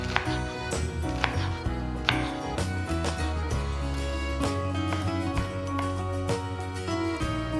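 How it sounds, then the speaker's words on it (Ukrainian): A knife chops spinach rapidly on a cutting board, sharp repeated taps in an uneven rhythm, close and fairly loud, with no one speaking. "Нарізаємо шпинат не дуже дрібно."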